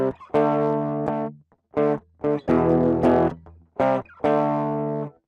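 An electric guitar played through the Tonberg Magnet tape plugin in Cubase: several short sustained phrases with rich, tape-saturated distortion and gaps of silence between them, loud and close with no voices.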